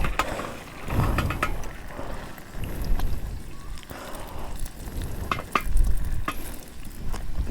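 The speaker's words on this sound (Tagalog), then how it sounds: "Pritong itlog lang yan, no?" Eggs frying in a pan at a campsite, a close, steady sizzle with scraping and stirring knocks layered over it, no voices.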